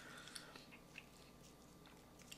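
A crunchy skirt steak fajita taco with peppers, onions and tortilla, grilled on a PK Grill, is bitten and chewed in a few soft, close crunches at low volume.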